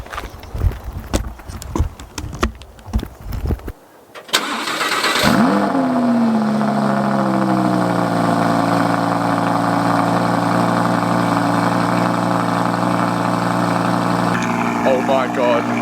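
An Audi R8 V10 Plus is cold started after a few nearby footsteps and handling noises, the engine catching with a sharp loud flare before settling into a steady, loud, high idle that holds to the end.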